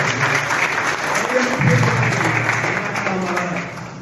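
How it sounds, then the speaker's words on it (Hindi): A crowd at a press club snooker tournament ceremony claps steadily for an honoree, a close, continuous burst of applause with a voice speaking over it before it eases slightly at the end. "नुमान शेख के लिए तालियां बजाएं"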